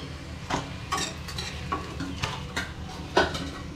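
Snacks fry in oil in a pan over a low gas flame, a soft continuous sizzle broken by several light scrapes and clinks of a utensil stirring and lifting pieces out.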